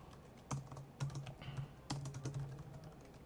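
Keystrokes on a computer keyboard while compiling a C++ program, a few quiet clicks with distinct heavier key presses like Enter spaced through, close and alone.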